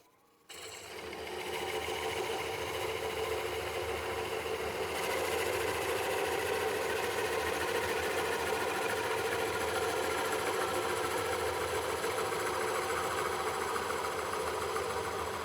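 A Oneway Easy Core cutter coring a wooden bowl on a lathe makes a steady, loud mechanical drone and whir that starts abruptly and runs unbroken, with a faint grinding texture and no talking.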